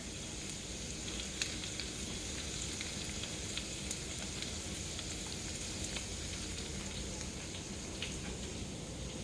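Beef sizzles and simmers steadily in a pan, a constant close crackle with fine pops running through without pause and no voices over it.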